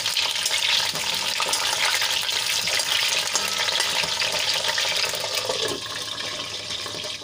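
Potatoes and brinjal frying in a pan for a Kathiyawadi meal, a continuous close hiss of oil with stirring and turning sounds throughout, easing slightly toward the end; no talking.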